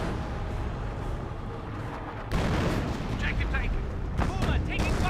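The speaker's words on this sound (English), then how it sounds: "There's artillery summoned onto this sector there, forced back the Commandos quite nicely" Artillery barrage in Company of Heroes, a dense, continuous roll of heavy booms and rumbling blasts that grows louder partway through, with a voice talking over it.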